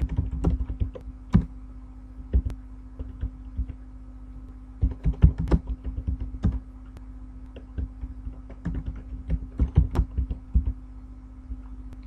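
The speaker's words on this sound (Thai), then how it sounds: "ก็จะพิมพ์ปีที่1ปี2ปีที่3ด้วยนะครับ" Someone types year numbers into an Excel spreadsheet on a computer keyboard, producing irregular close-up clicks and clacks in short bursts with pauses between them. A faint steady hum sits underneath, and no one speaks.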